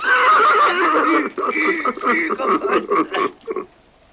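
A horse whinnies loudly, a long wavering neigh that breaks into shorter shaky bursts before fading.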